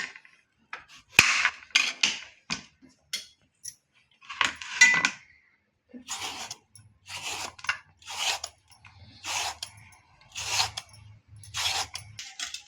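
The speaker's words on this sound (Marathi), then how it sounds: "आता हे भोपळ्याची मी साल काढून किसून घेणार आहे मी।" Bottle gourds are peeled in a kitchen, and the close, crisp scraping strokes come in short separate bursts with small pauses and occasional light knocks between them, with no talking.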